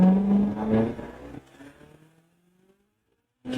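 SSC Tuatara hypercar accelerating hard, a loud rising engine roar for over a second that fades into a thin dwindling whine, then near silence before the engine surges loudly back at the end.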